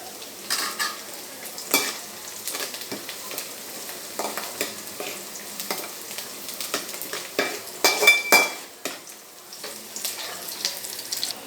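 Potato pieces tipped into a pan of frying onions and green chili, giving steady low sizzling broken by repeated sharp scraping and stirring clatters.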